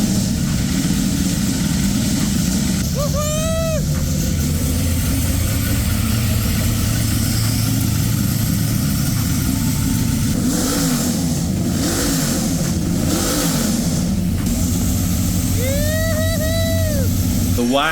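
A turbocharged NASCAR V8 fitted in a wagon rumbles loudly and steadily throughout, with engine tones rising and falling as it revs, and brief whistling turbo-like sweeps near the start and end.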